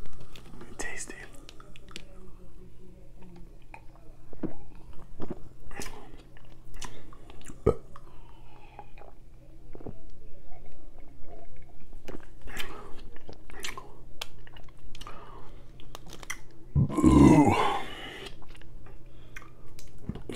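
Close, wet chewing and biting of chocolate-covered strawberries in a sweets mukbang, with soft crunches, smacking and whispery sounds spread through the stretch and a louder burst of crunching near the end.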